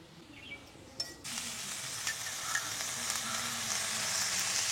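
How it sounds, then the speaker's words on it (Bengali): Chinese greens tipped into a wok of onions cooked with turmeric hit hot oil and burst into a loud, steady sizzle after a quieter first second, continuing unbroken with no talk. "আমি আজকে এক কড়াই শাক ভাজবো"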